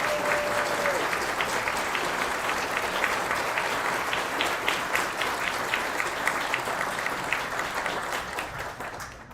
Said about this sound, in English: How about one more round of applause for everyone while we get back to our seats?